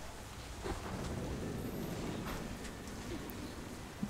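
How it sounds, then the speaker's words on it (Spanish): Cold, steady rain hisses in the video game Remember Me, with a low rumble of thunder and faint footsteps under it. "Bien, y volvemos a la fría lluvia."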